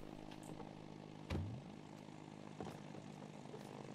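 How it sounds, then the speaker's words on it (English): A toy propeller plane flies in the video game It Takes Two, its steady engine drone running throughout with a couple of louder swells and whooshes as it banks past. "I'm flying a plane"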